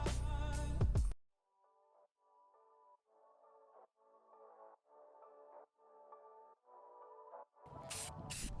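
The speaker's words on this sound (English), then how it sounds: "spray paint black over my stencil, a few coats" A spray can hisses black paint over a stencil on a wood sign in a series of about eight short, even bursts, each lasting around half a second, with no voices in between.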